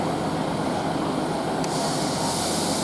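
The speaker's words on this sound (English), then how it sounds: "One 58813 departs Lincoln for Doncaster." An East Midlands Railway Class 158 diesel multiple unit pulls out of Lincoln station bound for Doncaster, giving a loud, close, continuous rumble and roar with no talking.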